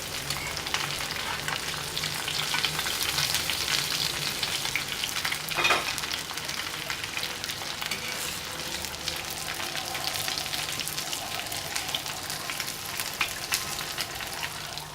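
Chapli kebabs frying in oil in a covered pan give a dense, even sizzle and crackle that holds steady throughout, with one brief louder clink partway through.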